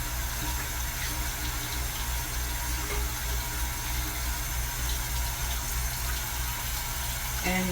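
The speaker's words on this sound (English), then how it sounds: "so we have to rinse our hands" Hands being rinsed under a running tap, a steady, loud rush of water that continues without a break from start to finish.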